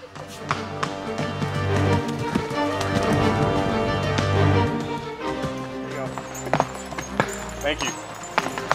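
Hooves of a mounted governor's horse guard clip-clop on pavement at a charity ride for the cure, a steady irregular clatter fairly close by, with people talking over it throughout.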